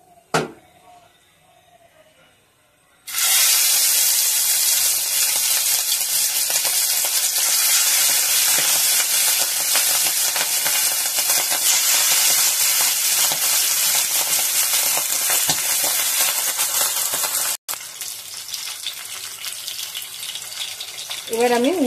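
Hilsa fish pieces dropped into hot oil burst into a loud, continuous close sizzle that runs almost the whole time, after a quiet start with a brief voice, dipping once before resuming.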